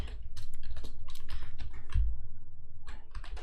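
Steady, rapid typing on a computer keyboard, close and continuous with a brief pause, no talking.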